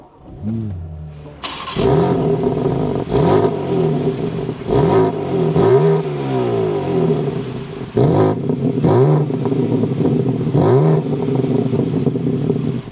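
A 2026 BMW M4 Competition xDrive fires up with a loud start-up flare, then settles into a rumbling idle broken by several sharp throttle blips and revs that rise and fall, close and alone with no talk.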